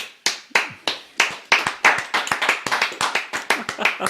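Scattered handclaps from a small live comedy podcast audience, a few people clapping in an uneven, loose rhythm, close and fairly loud, lasting about four seconds before fading.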